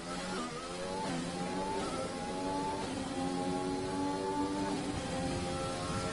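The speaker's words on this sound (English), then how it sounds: "I just love the sound of the engine coming through the tunnel." Racing car engine from a racing video game howling through the Monaco tunnel in qualifying, a steady loud high-revving whine with shifting harmonics and gear changes, sustained throughout with no voices.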